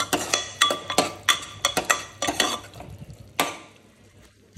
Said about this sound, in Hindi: ये दाल फ्राई कर रही हूँ